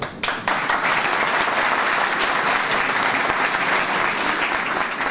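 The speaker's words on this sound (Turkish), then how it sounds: "Şimdi benim huzurumda olduğunuz için alkışlıyorsunuz ama gerçekten söylüyorum." A crowd applauds at a party meeting in Istanbul, dense continuous clapping that stays loud and close for the whole stretch after a brief start.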